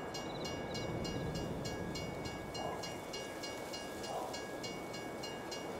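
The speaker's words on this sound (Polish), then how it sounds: "Pociąg ma 400 metrów, więc powinien tu zaraz z mapy wyskoczyć." A long train rolls past in Farming Simulator 22, a steady rumbling rail noise with a regular clicking beat from the wagons, continuous and fairly loud throughout.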